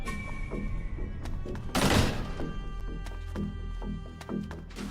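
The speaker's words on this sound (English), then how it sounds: "Grenades." Grenades exploding in Metal Gear Solid: Portable Ops give one loud burst followed by several dull thumps and clatters over a low game background hum, with no talk.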